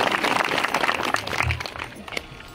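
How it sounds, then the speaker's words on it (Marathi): Scattered clapping at a devotional gathering for Sankashti Chaturthi at a Shiva Ganpati temple, honoring a Desh raga performance; a dense, moderately loud patter that thins out toward the end with no talking. "टाळ्या वाजव ना."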